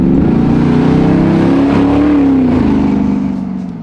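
A cammed 600-horsepower LS crate engine in a 1966 Chevelle restomod on a Roadster Shop chassis revs loudly and close by, its deep lumpy rumble swelling through a few throttle blips before easing off at the end.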